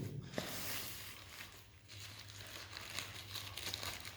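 Packaging of a new table tennis racket with Andro Rasanter V47 and V42 rubbers being opened, a continuous close crinkling and rustling of wrapping with faint tearing over a low steady hum.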